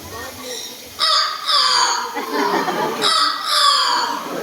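A talking bird at a safari bird show imitates a rooster's crow, giving two loud, drawn-out crowing calls close by with people talking around it.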